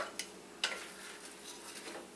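A spoon stirs onion soup in a pot just after broth is poured in, giving a few close clinks against the metal followed by soft scraping and faint sizzling, with no talking.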